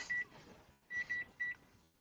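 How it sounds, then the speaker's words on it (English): A kitchen timer goes off for pumpkin pies baking, sounding faint, thin electronic beeps in short clusters, one pair and then a group of three, over quiet kitchen background. "My timer went off for my pumpkin pies,"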